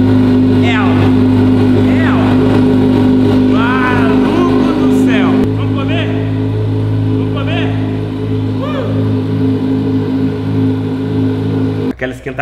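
A Jaguar XJ6 car engine starts and warms up, idling with a steady low hum, while people talk over it throughout.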